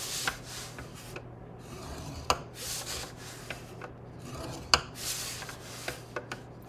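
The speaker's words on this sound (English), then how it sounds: "we're going to score at the 1 1/4 inch mark on all 4 sides" Scoring tool dragged along paper at the 1 1/4 inch mark on all four sides, giving a series of soft rasping strokes with a few sharper clicks, close and fairly quiet, with no talking.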